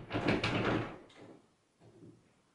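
A door swings open with a full-length mirror taped to it, giving a loud rustling, creaking sweep for about a second, followed by a faint soft clunk.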